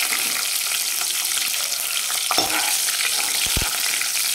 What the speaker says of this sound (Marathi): आणि थोडासा लसणाचा कलर चेंज होईपर्यंत आपल्याला परतून द्यायचं काही सेकंद